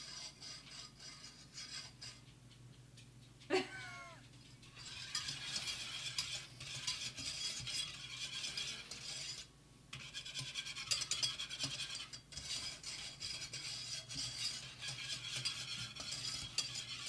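A spoon stirs bananas foster sauce in a pot that is not yet boiling, producing a soft, continuous scraping and swishing close by, with a sharper knock near the start and brief pauses along the way.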